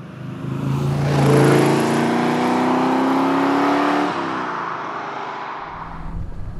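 A De Tomaso Pantera's Ford-sourced Cleveland 5.8 litre V8 revs hard and close, its loud growl climbing and holding for a few seconds before dropping back to a rumbling idle.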